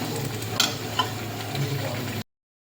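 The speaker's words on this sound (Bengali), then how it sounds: "এবার এটাকে কষাতে হবে ভালো করে, কষিয়ে নিই।" Creamy chicken marinated with yogurt and black pepper being stirred and fried in a pan, a steady close sizzle with a couple of brief utensil scrapes, cutting off abruptly after about two seconds.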